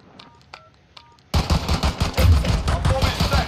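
A bomb being planted in Modern Warfare: a few sparse electronic keypad beeps, then a sudden loud wash of gunfire and battle noise that continues to the end.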